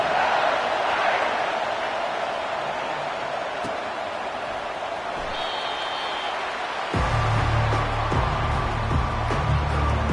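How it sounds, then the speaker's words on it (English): A large stadium crowd at a Notre Dame college football game, a steady roaring wash of cheering and noise throughout, with a few small thuds late on. "This crowd bringing an ear-splitting welcome to their visitors."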